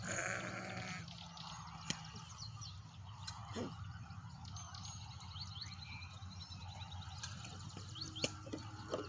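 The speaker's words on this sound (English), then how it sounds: "some sheep, big sheep, they are trying to fight each other." Sheep bleat on the way to a village market in Maasai country, Africa, where large rams butt and fight; steady mid-distance bleating over a busy outdoor backdrop with faint bird calls and no speech.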